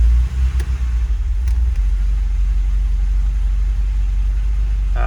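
A Lada Niva engine idles with a deep, steady, close rumble after a couple of faint clicks at the start, no voices present.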